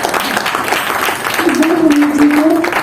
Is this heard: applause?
yes